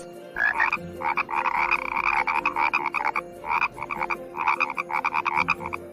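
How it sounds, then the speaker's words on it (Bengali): Frogs croak in rapid, rattling bursts, loud and close, repeating almost continuously with brief gaps. "এটা ব্যাঙের ডাক ইংরেজিতে ক্রোক বলে"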